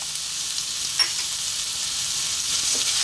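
Ginger and garlic sizzle in hot cooking oil, a steady close hiss of frying with a faint clink near the start, no talking.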